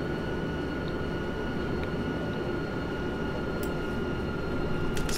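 ÖBB Railjet train running in the Train Simulator Classic video game, a steady dense rolling rumble with a constant high whine and a few faint clicks, heard alone without talk.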